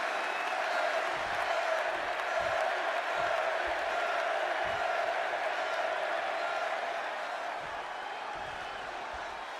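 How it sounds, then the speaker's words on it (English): A large arena crowd in Chicago roars at a WWE 2K26 wrestling match, a sustained loud wash of cheering and applause that holds throughout and fades a little at the end. "just listen to this crowd here in Chicago"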